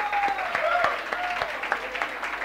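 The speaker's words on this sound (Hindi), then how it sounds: "कम ऑन एक बार ताली बनती है यार" A classroom of commerce graduates claps in a live accounting lecture, a steady crackle of hands filling the room for a couple of seconds, with brief tonal sounds over it.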